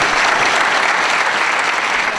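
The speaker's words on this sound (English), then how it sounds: "So I would like to, one last time, applaud these students and thank you." An audience at a winter champions banquet applauds students: loud, dense, sustained clapping from many people at a steady level, with no talking over it.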